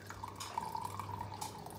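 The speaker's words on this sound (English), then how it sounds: "So she's gonna pour a cup of water." Water is poured into a cup in a kitchen, a soft steady trickle with faint splashing and dripping that runs continuously at low volume.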